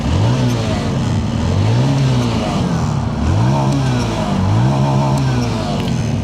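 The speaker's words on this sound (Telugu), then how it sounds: "ఫ్రెండ్స్, ఒకసారి ఎగ్జాస్ట్ సౌండ్ వినండి." An air-cooled 110cc TVS Sport 110 motorcycle is revved repeatedly, its exhaust note rising and falling in three or four loud, close throttle blips over a steady idle, with someone talking over it.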